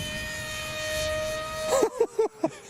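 A converted Lidl RC glider flies overhead with a steady whining motor drone that holds level, then breaks off as voices cut in with short bursts of talk near the end.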